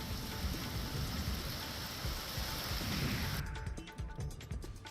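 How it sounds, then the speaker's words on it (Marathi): During a storm with strong wind over the main market, unseasonal rain pours in a dense, continuous roar. It thins out abruptly near the end, leaving scattered patters and splashes. "विजांचा कडकडाट आणि वादळी वाऱ्यासह मुख्य बाजारपेठ पावसानं हजेरी लावल्यामुळे"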